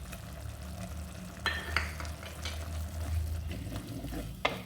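Minced mutton with garlic ginger paste sizzles steadily in a pan, with occasional scrapes and knocks of a stirring spoon, for aloo keema.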